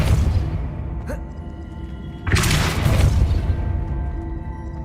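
A Depulso spell cast in the video game Hogwarts Legacy: a faint whoosh, then a sudden loud blast with a rumbling tail that fades under steady game ambience.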